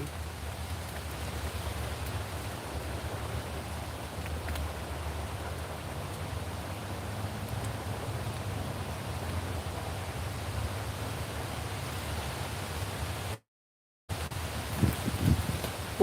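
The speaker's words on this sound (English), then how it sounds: "Ooh, it's getting windy." Wind blowing outdoors on an overcast day: a steady, broad rushing roar that persists throughout, briefly cutting out near the end before returning with a few low gusty thumps.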